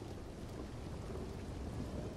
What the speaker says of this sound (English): There's a thunderstorm.